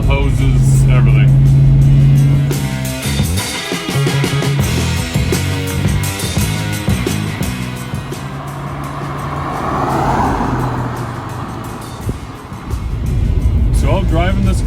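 A 1993 Ford SVT Mustang Cobra, an original car, drives with its engine pulling steadily through a shift near 3,800 RPM. The engine sound is loud and continuous, with speech mixed in over it.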